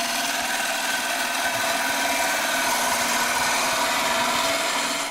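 An oak burr bowl spins on a wood lathe as the tool takes a steady, continuous cut, a loud broadband hiss and rasp of shavings that holds unbroken for about five seconds before cutting off.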